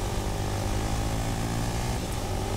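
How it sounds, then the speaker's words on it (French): Airplane engine in a Fortnite match, a continuous dense propeller drone that holds steady and loud for the whole moment, with no voices over it. "y'a un avion qui part."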